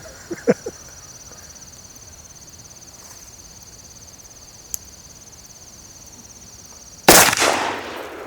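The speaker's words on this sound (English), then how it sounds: "an ammo test I conducted on the 480 Ruger Hornady Custom 325 grain XTP ammo" A single sharp, loud shot from a 480 Ruger round, a Hornady 325-grain XTP, fired into ballistic gel outdoors. It cracks near the end over a steady chorus of crickets and trails off in a short echoing decay, after a few faint clicks earlier.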